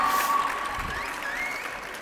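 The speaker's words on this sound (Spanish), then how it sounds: "Otro aplauso para Rubén García Miranda" An audience claps steadily at an architecture graduation ceremony, dense and sustained applause filling the hall for a couple of seconds.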